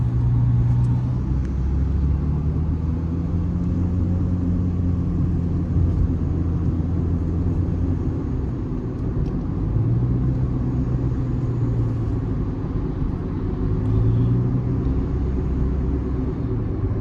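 Steady, loud car cabin rumble while joining a main highway from the emergency lane in Abu Dhabi, with engine and road noise holding constant and rising slightly in pitch as the car gathers speed, no talk.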